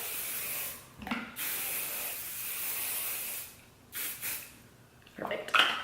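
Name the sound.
hairspray being sprayed on hair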